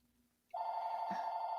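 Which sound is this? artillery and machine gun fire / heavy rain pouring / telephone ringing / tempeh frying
telephone ringing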